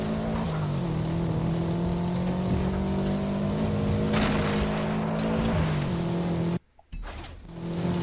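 Audi S1 racing in Forza Horizon 5, a loud sustained engine drone with shifting pitch and tire noise, briefly cutting out near the end before resuming.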